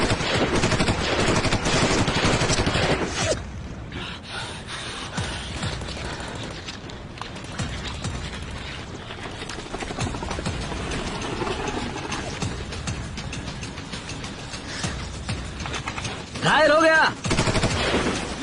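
Dense bursts of automatic gunfire from a war film battle scene rattle steadily, with shouted commands and talk mixed in over the din.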